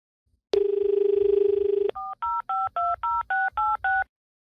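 A telephone number is dialed: a steady dial tone sounds for over a second, then eight distinct touch-tone beeps follow in an even rhythm, clear and close.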